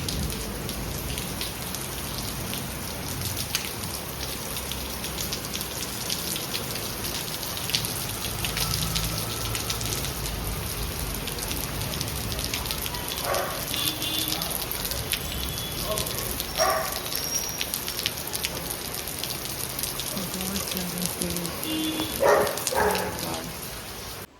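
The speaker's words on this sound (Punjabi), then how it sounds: "ਇੰਨੀ ਜ਼ਿਆਦਾ ਤੇਜ਼ بارش ਹੋ ਰਹੀ ਹੈ" Heavy rain pours down in a steady, dense hiss, with a few brief clattering drops and bumps rising above the downpour.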